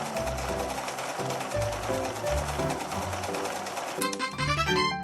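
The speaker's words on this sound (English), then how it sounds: "Press the pedal to sew." Video game sewing machine stitching a small dress as the pedal is pressed, a loud rapid mechanical chatter in repeated bursts with short pauses, ending in a quicker run of clicks over light background music.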